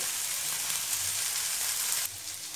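Vegetables stir-frying on a high flame for a mushroom dish, a steady broadband sizzle that holds loud and unbroken throughout, easing slightly toward the end with no voices present.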